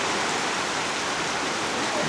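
Outdoor rain in Chiang Mai, Thailand, pours as a dense, even hiss of falling water, steady and loud throughout, with no voices or other sounds over it.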